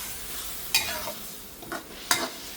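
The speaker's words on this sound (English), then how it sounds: "But when you stir the noodle, use a corner." A spatula corner stirring Pad Thai noodles in a frying pan, giving two or three short scraping strokes over a soft background, close and fairly quiet.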